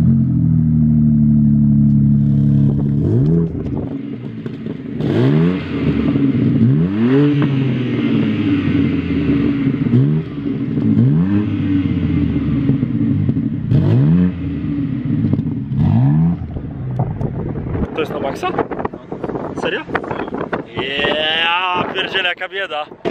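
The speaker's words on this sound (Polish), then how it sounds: "Poprosiłem jeszcze właściciela, żeby odpalił nam teraz samochód." BMW M4 Competition engine starting and revving, a low rumbling idle followed by repeated rising and falling throttle blips heard close and loud, with wind buffeting and a person talking near the end.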